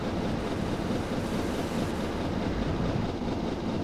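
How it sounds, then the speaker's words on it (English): Steady rumbling rail noise from a steam train with passenger coaches in Train Simulator 2014, a continuous loud roll and clatter with no distinct whistle or chuff, heard throughout with no talking. "We've got our lovely coaches, lovely steam engine"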